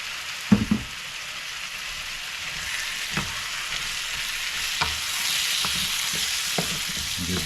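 Pumpkin and shrimp fry in a pan with a steady close sizzle while a utensil stirs, giving several sharp scraping knocks against the pan at irregular intervals.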